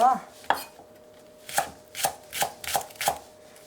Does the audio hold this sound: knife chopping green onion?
yes